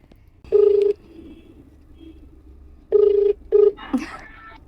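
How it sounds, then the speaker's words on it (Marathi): Several short electronic keypad beeps as a phone number is dialed, a single tone, a pause, then a quick cluster of tones close by. "आता कोमलला फोन करूया, मज्जा येते मला तर फुल."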